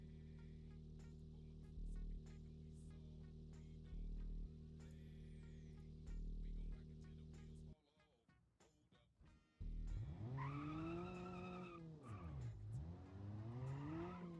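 A sports car in a racing video game holds a steady engine drone, falls briefly quiet, then roars back as its pitch rises and dips while drifting with squealing tires.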